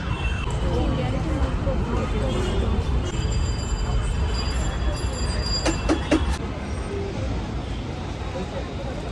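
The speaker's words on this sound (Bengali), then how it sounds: "আমরা এখন ট্রামডিপোর মধ্যে চলে এসেছি বেহালাতে" A tram rumbles inside a tram depot in Behala, with a steady low mechanical roar, some metallic squeals partway through, and faint voices in the background.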